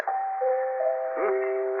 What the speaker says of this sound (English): chimes of Normandy. Very musical doorbell.